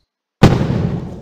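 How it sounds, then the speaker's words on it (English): A single sharp firework blast from the G-Fireworks mod in Garry's Mod erupts suddenly after a moment of silence, then trails off in a crackling, rumbling decay, loud and close. "So at first there's the giant blue lights, but there's a smaller explosion than you expect."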